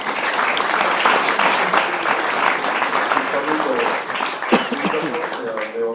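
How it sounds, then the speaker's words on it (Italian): Audience applause for volunteers at a Carnic arts, culture and tradition festival, steady and dense throughout, with voices talking over it near the end. "metto un applauso a tutti i volontari che hanno lavorato per questo"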